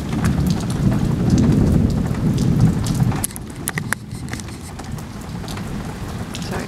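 Thunder rolls low and heavy for several seconds during a lightning storm in a heat wave, then fades, leaving steady rain pattering close by with occasional sharper drops.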